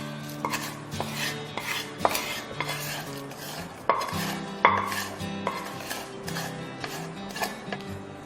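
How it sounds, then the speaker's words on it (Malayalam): Unniyappam batter mixed with fried coconut pieces and sesame seeds in a bowl, giving repeated wet stirring scrapes and light clinks of utensil against the vessel, close and steady without talk. "നമുക്കൊന്നും കൂടി നന്നായിട്ട് മിക്സ് ചെയ്തിട്ടെടുക്കാം"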